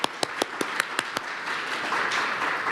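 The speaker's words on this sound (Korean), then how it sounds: "다시 한번 큰 박수로" Applause after a presentation at a regional medical network seminar, starting as a few distinct sharp claps in quick succession and then swelling into a fuller, blended round of clapping from the audience, moderately quiet overall.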